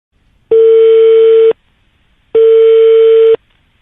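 Telephone busy tone after a call is hung up on a radio show: two steady, loud beeps about a second long each, separated by a short silence, with no voices.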